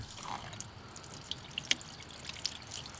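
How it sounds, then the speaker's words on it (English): Water drips and beads off a ceramic-coated car door panel, a sparse scatter of faint, close drips against quiet background hiss. "you can see that the water does bead off"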